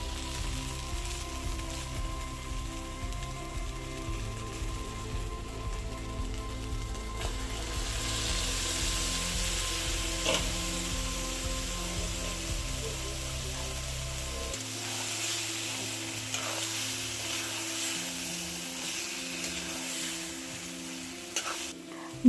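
Food is stirred and sizzles in a pot over a clay stove, a continuous close frying hiss with scraping stirs throughout and a low rumbling hum that drops out partway.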